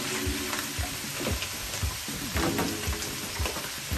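Green beans hitting a hot frying pan for balsamic chicken and green beans, a steady loud sizzle and crackle with stirring and utensil scrapes throughout.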